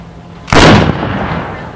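A single sharp, loud revolver shot cracks out at a women's fast draw competition, a blank-ammunition shooting event, followed by a brief echoing decay in an outdoor range.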